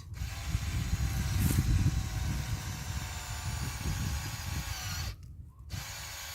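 A cordless drill bores a tap hole at a slight angle into a maple tree trunk in the countryside, giving a steady, close grinding whir that runs for about five seconds, then briefly drops out before resuming.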